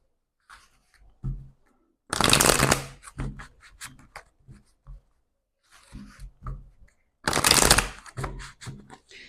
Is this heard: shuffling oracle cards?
yes